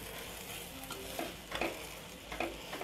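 Coconut sautéing with onions and tomatoes for a ground tomato gravy, a steady soft sizzle with a few light spoon scrapes and stirs against the pan.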